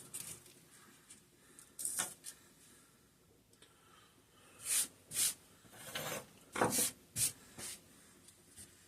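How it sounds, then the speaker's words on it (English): Quiet scraping strokes of sanding the diaphragm-side gasket surface of a diaphragm cover from a 5 hp Briggs and Stratton engine, several rough rasps in an irregular rhythm, close and fairly faint. "give the gasket side, the diaphragm side of this diaphragm cover just a little bit of a sanding"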